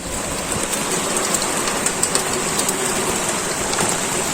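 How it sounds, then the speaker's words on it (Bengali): Heavy rain pours down outside a home, a dense, steady roar that holds at an even level for the whole stretch, with faint scattered patters and no voices. "তা দেখো কি জোরে বৃষ্টি হচ্ছে"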